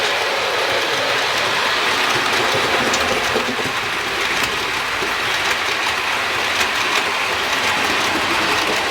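Model trains circling a newly laid section of track, giving off a steady close whirring rumble with light rhythmic clicks from the wheels.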